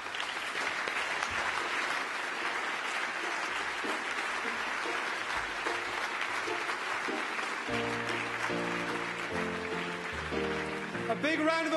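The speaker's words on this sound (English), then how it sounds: "Big round of applause." Sustained audience applause at a televised awards show, a dense steady wash of clapping throughout, with music entering beneath it in the final few seconds.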